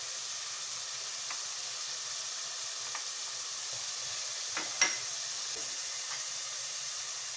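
Browned onions hit melted butter in a pan while red bean masala is cooked, giving a soft, steady sizzling hiss throughout, with a few faint clinks and stirring sounds.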